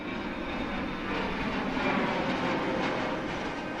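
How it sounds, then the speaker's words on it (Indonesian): Steady, loud droning roar of a B-29 bomber's piston engines approaching in the sky over Hiroshima, a continuous broadband rumble that swells slightly in the middle without any break. "di atas sana, sebuah pesawat B-29 bernama Enola Gay sedang mendekat"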